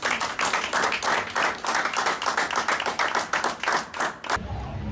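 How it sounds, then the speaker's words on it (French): Guests at the official opening of a law firm clap steadily in a dense, close burst of applause lasting several seconds, then it cuts off abruptly into near quiet. "nous invitons les invités à acclamer l'ouverture du cabinet"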